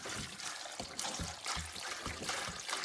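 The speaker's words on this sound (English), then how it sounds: "So I'm going to pour water into my pot." Water is poured into a big cooking pot for Greek style chicken soup with rice, a soft, continuous trickling splash close by with faint irregular gurgles.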